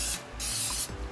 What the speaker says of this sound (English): spray mine with the olive oil.